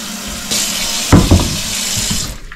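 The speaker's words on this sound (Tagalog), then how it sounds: "Painumin natin ng madaming tubig sana." Tap water pours steadily from a faucet into a potted plant indoors, a continuous close rush with a brief sloshing surge midway.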